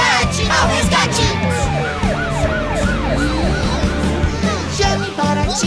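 Ambulance siren wailing in repeated rising and falling sweeps within a Portuguese children's rescue-team song, loud over bouncy music and sung voices throughout.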